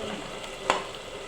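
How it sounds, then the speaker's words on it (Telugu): Tomato pieces fry in a pan with a soft, even sizzle, broken once by a single brief utensil tap. "నేను అదే టమాటా ముక్కలు వేస్తాను"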